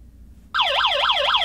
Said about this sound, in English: whenever it picks up a motion, it's gonna set off that alarm